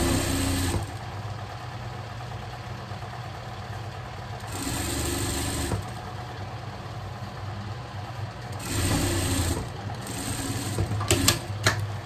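Sewing machine stitching fabric for a pet overall garment, running in steady mechanical bursts with short pauses between runs and a few faint clicks near the end.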